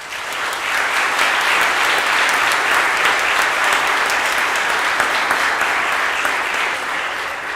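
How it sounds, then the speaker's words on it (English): A sustained round of applause from the audience at the Randolph-Macon Academy Class of 2024 award ceremony, with many hands clapping densely and evenly. It swells quickly, holds steady and loud, then begins to thin toward the end. "And I think that deserves a round of applause."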